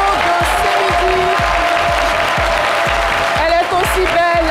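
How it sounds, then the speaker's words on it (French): A studio audience on a midday television show applauds a guest with sustained, dense clapping, while a voice speaks over it and a rhythmic low beat pulses underneath. "Merci de décerner un déluge d'applaudissements à notre invitée, Pascaline Kamokwe"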